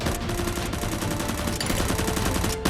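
Nerf guns fire in a toy gunfight, with a loud, dense rapid series of sharp shots repeating without pause over a steady mechanical rattle.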